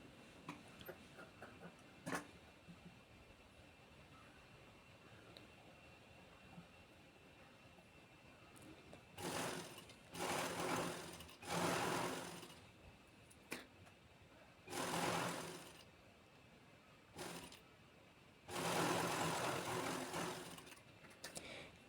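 A sewing machine stitches blouse lining laid on the cloth with a half-inch seam for a princess-cut blouse. It runs in several short whirring bursts separated by pauses, close and moderately loud.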